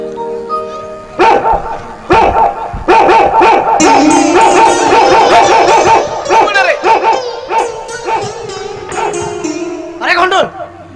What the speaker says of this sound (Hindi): सर कुत्ता है।